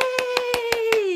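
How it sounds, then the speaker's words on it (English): Six evenly spaced claps during a preschool music and movement class, sharp and close, over a sustained sung or hummed tone that slowly falls in pitch. "So give yourselves a clap."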